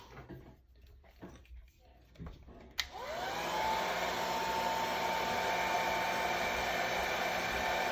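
Heat gun blowing on old tape stuck to a comic book, switching on with a click partway through and then a steady loud whooshing roar, close by, after quiet handling noises.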